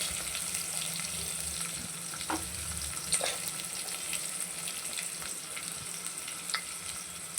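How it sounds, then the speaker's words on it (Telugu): Chopped onion and slit green chillies frying for mint rice, with a steady hiss under occasional soft clicks of stirring and no talking. "ఒక పెద్ద సైజ్ కట్ చేసిన ఆనియన్ వేసుకొని బాగా కలుపుకోవాలి."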